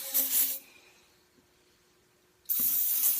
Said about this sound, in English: Just spraying out any dirt that's in there.